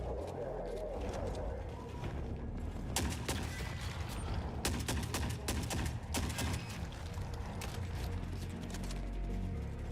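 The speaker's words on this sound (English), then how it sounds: "Oh, shotguns." Repeated shotgun blasts in the video game The Forever Winter ring out as sharp broadband bursts in irregular clusters amid busy mechanical battle noise, with a voice talking over parts.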